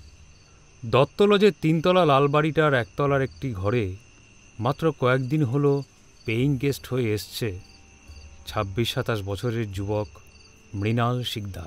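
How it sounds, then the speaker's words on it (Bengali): Crickets chirp steadily at night from a small garden, a faint high continuous trill running beneath someone narrating throughout. "পাশের এক ফালি বাগান থেকে ভেসে আসছে ঝিঝি পোকার ডাক।"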